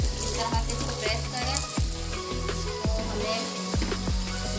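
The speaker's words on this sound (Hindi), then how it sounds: "अब हम इस पे घी लगाएंगे और इसको अच्छी तरह सेकेंगे।" A paratha fries in ghee on a hot griddle with a steady, loud close sizzle, while low periodic hums and clicks run underneath.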